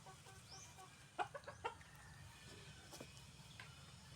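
Pet chickens cluck and squawk in short bursts while being fed on a rural farm, with a few louder calls standing out over a steady low background rumble.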